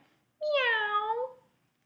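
A single clear, drawn-out meow, about a second long and close up, voiced by a person imitating a cat, with silence before and after.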